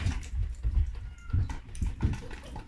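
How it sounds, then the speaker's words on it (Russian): A lynx purrs in a continuous low rumbling rhythm, close and steady, with faint higher catlike vocal tones layered over it and no talking. "а на Арию он как раз реагирует мурчанием"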